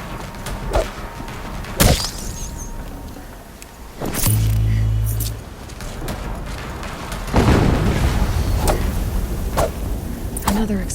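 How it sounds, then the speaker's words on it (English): Explosions in the video game Horizon Zero Dawn Remastered: several heavy booms and thuds, one long low rumbling blast in the middle, with a game voice briefly audible. "Explosion."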